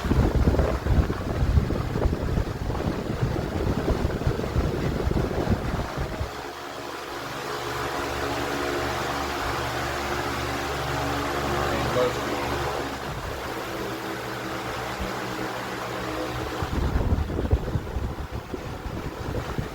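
A 2008 Dayton 20-inch high-velocity fan runs with a broad rushing whoosh, with a steady humming motor drone layered in through the middle stretch, close and fairly loud.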